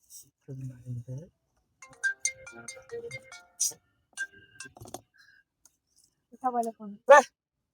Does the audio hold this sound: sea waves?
no